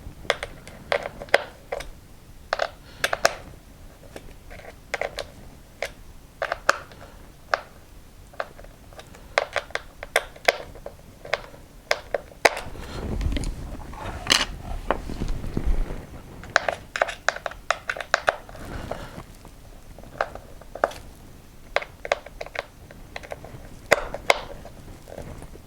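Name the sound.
screws being driven in to mount a servo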